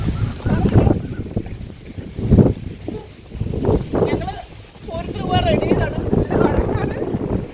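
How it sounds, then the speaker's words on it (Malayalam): Strong gusting wind buffets the microphone outdoors before a rainstorm, a loud low rumble rising and falling under excited family chatter. "അയ്യോ നല്ല കാറ്റ്"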